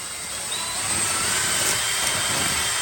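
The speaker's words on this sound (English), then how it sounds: "we're going to drill a hole in the bottom" A continuous high-pitched whirring of a power drill running steadily at close range, drilling a hole through a handmade Halloween tombstone, with no pauses.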